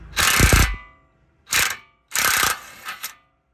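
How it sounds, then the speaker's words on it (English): An impact gun with a 23 mm deep well socket removes an outer tie rod nut on a 2013 rear-wheel-drive Chrysler 300 V6, giving three loud, close rattling bursts, the last one stuttering, with short silences between them. "this is going to be a 23 millimeter deep well socket, and I have an impact gun."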